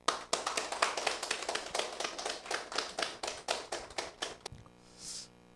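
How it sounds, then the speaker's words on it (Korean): Audience at a lecture hall clapping to welcome a speaker for a talk on Korean history: a brisk run of distinct, fairly close handclaps for about four seconds, then it stops abruptly, leaving a faint hiss. "이완용 대한사랑 사무총장님을 큰 박수로 모시겠습니다."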